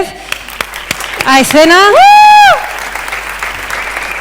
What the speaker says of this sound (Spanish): vamos a darle un fuerte aplauso a estos chicos